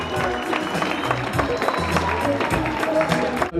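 Audience at an Icelandic horse breeding show clapping in a sustained patter of many hands, with hoof thuds and faint voices mixed underneath.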